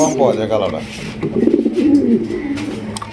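Large black pigeons cooing at a pigeon market stall, the soft low coos repeating steadily throughout, close by and overlapping one another.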